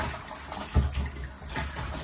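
Tap water runs and splashes close by as poa fish are rinsed in a kitchen, a short steady wash broken by a couple of louder splashing bursts.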